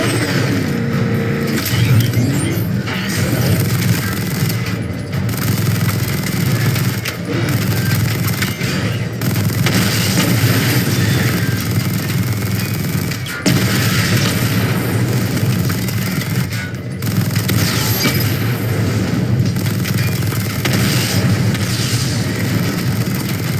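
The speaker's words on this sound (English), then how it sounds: "Charge the missile barrage to level 2 to destroy up to 4 targets at once." Missile barrage explosions in the video game Batman: Arkham Knight, a dense continuous roar of rapid booms, bursts and mechanical rattles, loud and sustained with brief dips in intensity.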